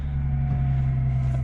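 Lexus IS 300 with a manual transmission idling just after a warm start, a steady low engine drone with a constant hum, close and unvarying with no voices.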